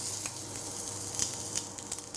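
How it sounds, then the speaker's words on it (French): Quail pieces roasting in a hot pan give off a soft, steady sizzle with light crackling pops, close and quiet, with no voices over it. "Je rôtis ma dernière face de caille."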